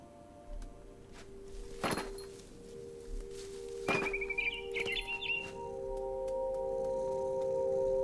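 Birds chirp in the video game What Remains of Edith Finch, a few short tweets over a quiet ambient game background with soft thunks and a steady low hum, no voices.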